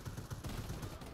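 Rapid automatic gunfire in the shooter game Warface, a fast, evenly spaced burst of about seven shots crowding just over a second, loud and close with no talking.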